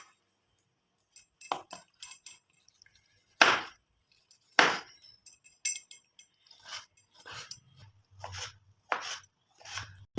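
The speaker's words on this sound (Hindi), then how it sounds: "एबे हमें टमाटर को चुन चुन कर काटिबा।" A knife chops tomatoes finely on a board for a Mughlai paratha filling: a few sharp, separate strikes give way to quicker, irregular chopping taps, close and moderately loud, with no talking.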